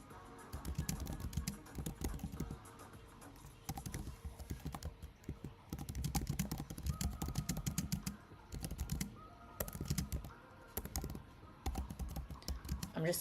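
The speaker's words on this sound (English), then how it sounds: "I'm just typing it out." Steady clatter of typing on a computer keyboard during a live coding session, fast bursts of close keystrokes with brief pauses between runs, no voice over it.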